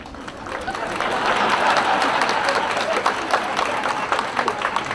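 A large youth convention audience applauds in a hall at a school's diamond jubilee celebration, dense clapping swelling and holding steady with crowd murmur beneath.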